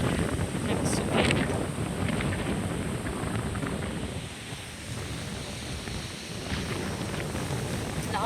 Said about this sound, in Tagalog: Lakas ang hangin, parang may bagyo.